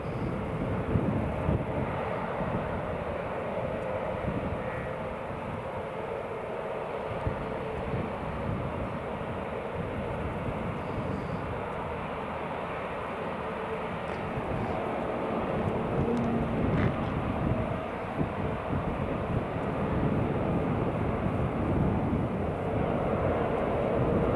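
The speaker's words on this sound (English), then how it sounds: "Oh, we have the Air France. Embraer 190." An Air France Embraer 190 jet at Newcastle International Airport gives off a broad, steady engine roar that swells slightly in the second half and stays loud and unbroken throughout, with no talk.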